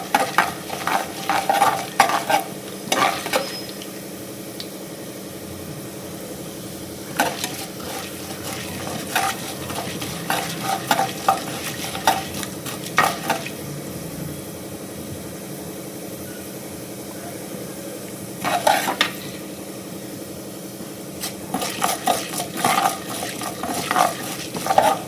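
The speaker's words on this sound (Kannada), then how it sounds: "ಕಡಲೆಬೇಳೆ, ಉದ್ದಿನಬೇಳೆ ಸ್ವಲ್ಪ ಕ್ರಿಸ್ಪಿಯಾಗಿ ಫ್ರೈ ಆಗಲಿ." Chana dal and urad dal fry in oil in a pan, with a steady soft sizzle under recurring bursts of a spoon stirring and scraping against the metal, close and without talk.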